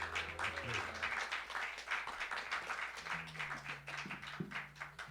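An audience applauds at a philanthropy celebration, a steady wash of clapping that carries through the whole stretch beneath a low sustained musical tone, with no speech.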